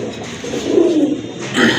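A male white-eyed Giribaj pigeon coos close by, loud and clear, in a rolling, warbling low call that swells, dips and then sounds again briefly near the end.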